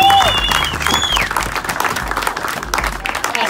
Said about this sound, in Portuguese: Uma salva de palmas pra esses quatro feras!